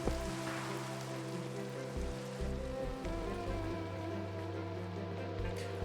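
Steady rain falls in the Minecraft video game, a continuous hiss with soft patter that lasts throughout, beneath sustained tonal background music.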